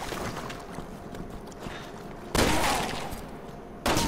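Gunfire in the Resident Evil 6 video game, Leon's campaign: two sharp, loud shots about a second and a half apart, each bursting over a steady bed of in-game background noise and clatter.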